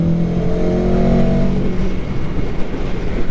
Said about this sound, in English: Now, auto blip downshift, and you hear that little boom.